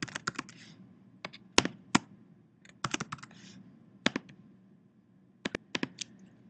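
Typing of students' names on a computer keyboard, with irregular bursts of crisp key clicks separated by short pauses, close and clear, with no talk.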